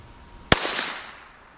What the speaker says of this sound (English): we're going to start shooting and see where it's at